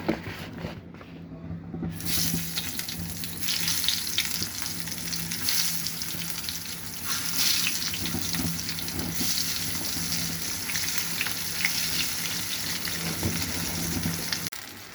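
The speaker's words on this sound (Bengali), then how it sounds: "এখানে আমি একে একে বেগুনগুলি সুন্দর করে ভেজে নেব।" Eggplant slices fry in a pan with a steady, close sizzle and crackle that continues throughout, after a brief quieter moment at the start.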